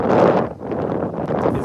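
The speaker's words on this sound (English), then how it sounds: "It's windy." Gusty wind blows outdoors, buffeting the microphone with a steady, loud rush that dips briefly and then swells again, with no one speaking.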